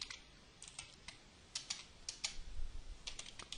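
Quick, light clicks of typing on a computer keyboard, irregular bursts of keystrokes, faint and close with a quiet background.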